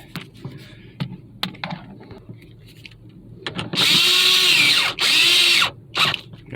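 A power drill or driver tightens screws on a Honda Civic sun visor in two long whirring bursts, close and loud, with a short stop between them, after quieter handling clicks.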